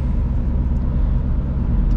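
A 2007 Seat Leon II 2.0 TDI with a 140 hp diesel cruises on a motorway, giving a steady loud low-frequency cabin drone of engine and road noise with no talk.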